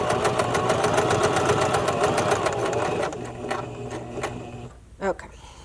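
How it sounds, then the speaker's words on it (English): A sewing machine stitches channeling onto a bra cup in a steady, fast mechanical run that slows and stops partway through, followed by a few softer handling noises. "keep stitching all the way"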